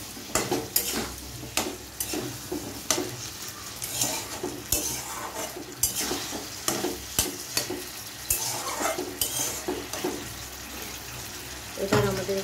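Fried egg, potato and cauliflower are stirred with spices in a frying pan, giving steady close scraping and clattering from a spatula over a continuous sizzle, with occasional talk in the background.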